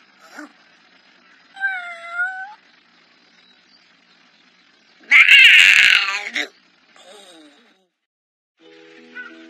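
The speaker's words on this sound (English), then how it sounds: "I was so worried I'd run over you, little kitty" An animated kitten mews in soft, high, drawn-out cries, with a brief loud burst of noise in the middle and scattered quieter sounds around it, heard in an anime scene.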